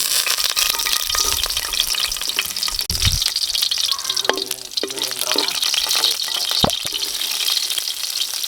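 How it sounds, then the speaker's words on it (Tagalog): Garlic sautéing in hot oil for beef ribs, a loud, steady close sizzle with scattered crackles and a few stirring clinks and scrapes of a utensil against the pan. "magigisa na tayo ng bawang"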